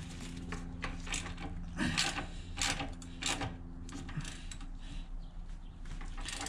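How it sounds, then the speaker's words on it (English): Ratcheting and clicking of a wrench tightening a 14 millimeter nut and bolt on a 2003 Honda VTX 1800c motorcycle during an exhaust install, a run of close, uneven metallic clicks and scrapes over a steady background hum. "This is a 14 millimeter nut and bolt."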